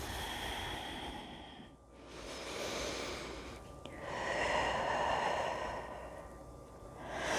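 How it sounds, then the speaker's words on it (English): Slow, deep, audible inhales and exhales during a seated chair yoga stretch, two long breath cycles that are fairly close and soft, with no talking. "Breathing."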